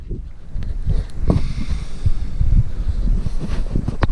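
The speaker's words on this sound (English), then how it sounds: "got the wind blowing into this bank" Gusty wind blows across an open fishing bank, buffeting the microphone with low, rumbling bursts that rise and fall throughout.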